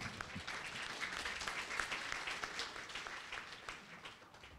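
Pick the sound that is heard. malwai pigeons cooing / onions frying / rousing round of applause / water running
rousing round of applause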